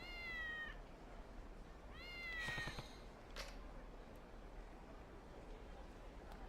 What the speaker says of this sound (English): where's the cat at? It's supposed to be right here.